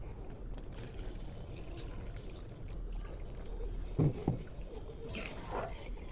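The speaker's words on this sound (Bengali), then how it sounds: "ডালে জল দিয়ে দেবো।" Water poured into moong dal cooking in a pot, a low steady pour with a brief splashy burst near the middle, set against faint kitchen background.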